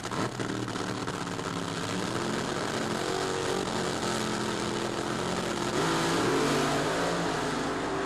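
Drag racing cars launch with spinning tires at the 1976 NHRA Springnationals, a loud continuous engine roar with rising and shifting revving tones throughout.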